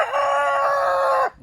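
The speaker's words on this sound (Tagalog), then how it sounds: "Ay mga manok." A rooster crows loudly and close by in one long, sustained call that cuts off abruptly, with a faint cluck afterward.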